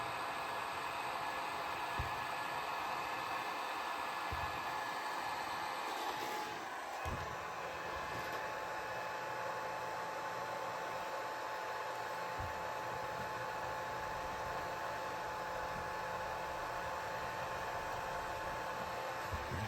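A heat gun blows steadily on a fitting on the fuel line of a 1/5 scale MCD XR5 RC race vehicle, giving a constant loud whooshing roar with faint knocks and handling sounds and no talk.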